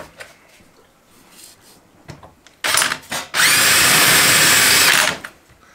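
A power drill whirs in two bursts, a short one and then a longer steady run boring through wood beside a metal beam, loud and close after some quiet handling noises.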